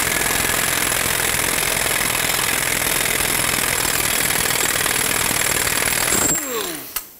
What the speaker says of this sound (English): Put on your axle nut. I'm going to bottom it out and then torque it to 118 foot-pounds.